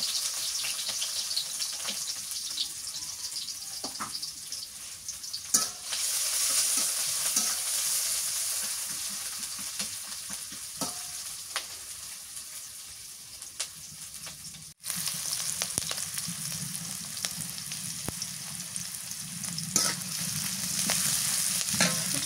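Green chillies and chopped onion frying in soybean oil, a loud continuous crackling sizzle close by with a sharp burst as ingredients hit the pan midway and occasional stirring scrapes, no talking.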